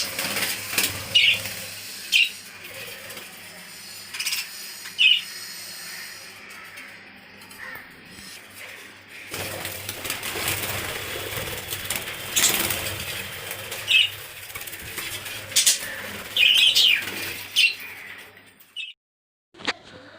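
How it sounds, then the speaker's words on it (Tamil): A budgerigar colony on a rooftop gives scattered short chirps and bursts of wing flapping over a steady background hum, with the chirps coming in irregular clusters. "நம்ம எந்திக்கும் போது அந்த சவுண்டு மொட்டை மாடியில் வந்து கிச் பறவை சவுண்டு செம்ம க்யூட்டாக இருக்கும்"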